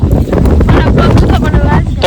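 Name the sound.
wind blowing outdoors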